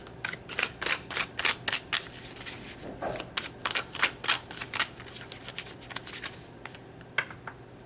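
A deck of tarot cards is shuffled up close, producing a quiet, rhythmic run of soft riffling slaps and flicks that repeats steadily for several seconds before tapering off.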